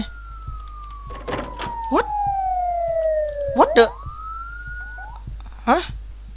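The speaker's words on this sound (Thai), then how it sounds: "เสียงรถตำรวจ" A police car siren in the video game Shadow of Pharos wails in a long falling sweep that rises again, with short clunks and brief voice sounds breaking in around it.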